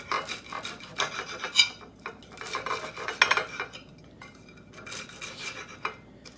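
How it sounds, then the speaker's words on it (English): A knife saws through a slice of toasted Dave's Killer thin-sliced bread, cutting it into four pieces with close, repeated rasping strokes in several short bursts and no talking. "And then you cut the toast into 4 pieces."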